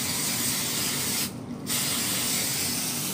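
Hairspray from an aerosol can sprayed onto hair while styling curls, a steady broadband hiss that runs almost continuously, loud and close, with one short break in the middle before spraying resumes.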